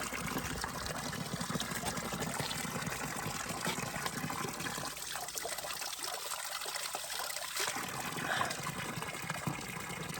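Spring water trickling steadily at the ancient Dacian site of Sarmizegetusa Regia, a close, continuous wash of running water with no voices.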